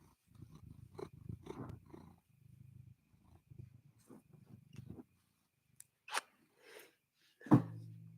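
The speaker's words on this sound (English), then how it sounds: "She's purring." A pet cat purring in low, rumbling bursts close by, faint at first, then fading into quiet gaps broken by a couple of sharp clicks and a short thud.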